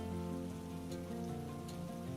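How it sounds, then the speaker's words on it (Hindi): Rain falls in a Hindi cartoon street scene, a soft steady patter running beneath sustained tonal music. "बारिश हो रही है"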